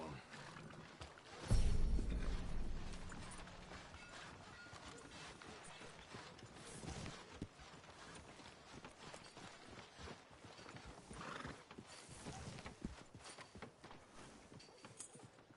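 Horse hooves clip-clop at a steady walking pace in the video game Red Dead Redemption 2, fairly faint, after a louder thump near the start, with some talking woven underneath.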